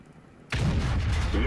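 A single heavy, booming cannon blast from an SU-152 tank destroyer firing a HEAT round in World of Tanks, loud and sudden after a quiet moment, with a long rumbling tail.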